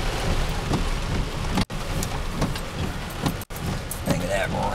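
Heavy rain pours down steadily outdoors at an Amish sawmill with a full pond, a dense continuous wash broken by two brief dropouts.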